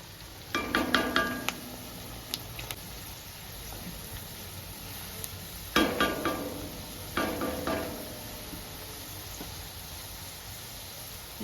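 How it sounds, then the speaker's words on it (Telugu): Chopped onions sizzle in hot oil in a pan while being stirred, with scraping bursts of stirring and clinks of the utensil over a steady soft frying hiss. "ఉల్లిగడ్డ బాగా ఫ్రై అయిందండి"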